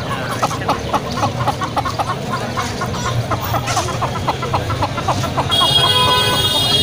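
Desi and Aseel roosters and hens cluck and crow amid a busy poultry market bustle in Indore, India, with distant traffic noise and faint chatter in the background.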